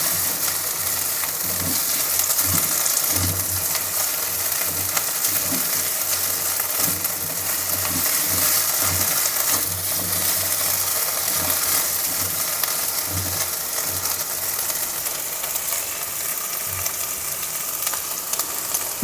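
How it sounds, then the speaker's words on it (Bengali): Ginger and garlic frying in a pan for yogurt prawns, a steady close sizzle with faint stirring scrapes and clicks running throughout, no voices. "আদা রসুনের কাঁচা গন্ধটা যাওয়া অবধি আমি একটু ভেজে নেব।"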